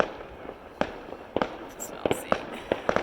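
New Year's fireworks bursting outdoors at some distance, a string of sharp cracks and pops in irregular clusters, with faint low voices underneath.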